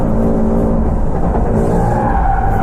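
A Nissan 370Z drift car spins out, its tires skidding and scrubbing over a loud, dense engine roar that fills the whole short stretch up close without pause.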